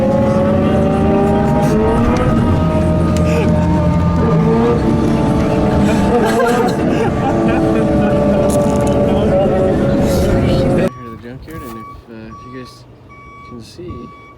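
A Ford truck, a 2014 chassis-cab model with a turbo and an ECU problem, roars loudly as the throttle is floored, its engine note sustained for about ten seconds before cutting off abruptly, leaving a high steady beep and faint background noise.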